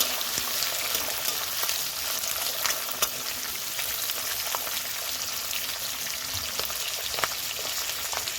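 Chopped onion and capsicum frying in hot oil for chilli chicken, a steady dense sizzle that stays even throughout, with faint scattered crackles and no voices.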